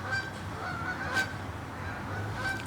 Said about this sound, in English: And the birds are really chirping this morning.